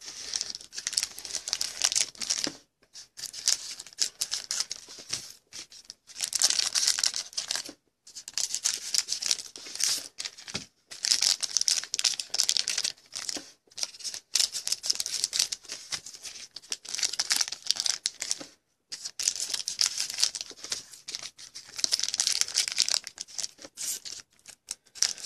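Football trading card packs are cut open one after another: bursts of crinkling, tearing foil wrapper, separated by short silent gaps, close and fairly soft.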